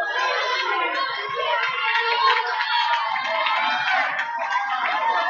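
A crowd cheers and claps at a girls' high school basketball game between Bishop McNamara and Paul VI, a loud, steady roar of shouting voices with high-pitched youthful yells.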